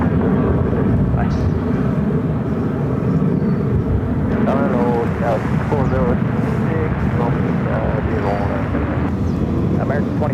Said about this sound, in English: The flight coming in from Detroit, also an A350. So that is an arrival on 8 there on the north side.